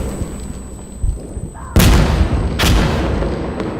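Grenade explosions in the tactical shooter game Insurgency Sandstorm: two loud, sharp blasts in quick succession, each with a rumbling tail over steady background game noise.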